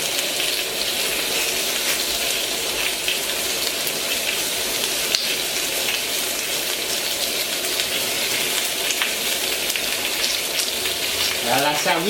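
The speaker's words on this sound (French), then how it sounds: "Et on va les cuire sur une plancha chaude." Sardine fillet skewers sprinkled with thyme sizzle steadily on a hot plancha, a dense, even crackle of frying that stays loud and close throughout without a break.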